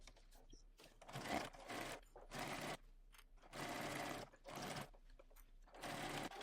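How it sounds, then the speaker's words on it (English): A sewing machine whirs in repeated bursts of stitching, stopping and starting several times, fairly quiet and close. "the outer main panel is going to be flat against my sewing machine"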